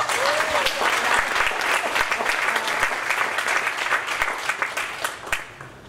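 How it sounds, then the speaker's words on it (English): A symposium audience gives a full round of applause: dense, even clapping from many hands that continues steadily and tapers slightly at the end, with a brief voice at the start. "Can we give her a round of applause?"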